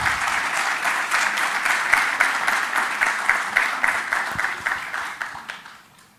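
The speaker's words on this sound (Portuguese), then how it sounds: "Uma salva de palmas, por favor." Audience applause at a lecture on geopolitics and globalization, a steady dense round of clapping from a crowd that holds for several seconds and then tapers off at the end.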